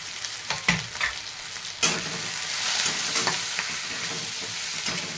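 Spices stirred into okra masala frying in a pan, a steady close sizzle with scraping spoon strokes at irregular intervals, heard alone without voices.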